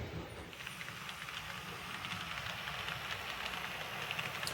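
Model railway locomotive shunting on a layout, a faint steady mechanical rumble and rail hiss running continuously at low level with no talk.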